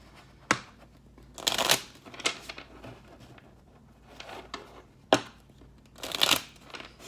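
A personal handmade deck of reading cards being shuffled, several distinct riffling bursts and sharp card snaps separated by short pauses, close and fairly clear with no talking.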